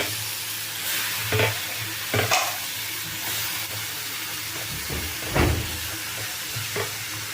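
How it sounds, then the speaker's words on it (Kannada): Washed potato and bottle gourd pieces drop into a pan of frying tomato, with steady sizzling and a few stirring scrapes and clatters, close and moderately loud with no talk. "ನಾನು ತೊಳೆದಿಟ್ಕೊಂಡಿದ್ದ ಆಲೂಗೆಡ್ಡೆ ಸೋರೆಕಾಯಿ ಹಾಕ್ಕೊಳ್ತಾ ಇದ್ದೀನಿ"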